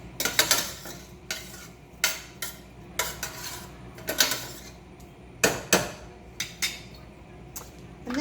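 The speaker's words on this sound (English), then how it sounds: "So we just get this onion stirred up in the fat." Onion stirred in hot fat in a pan, a spoon scraping and clinking against the metal in irregular strokes with a faint sizzle underneath, close and fairly quiet.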